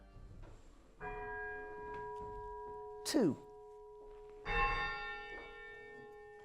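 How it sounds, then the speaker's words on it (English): Large church bells ring out in two or three resonant strikes with long, sustained overtones, while a voice briefly speaks between them. "They're rung every Sunday morning to call people to worship, which is the whole purpose of church bells."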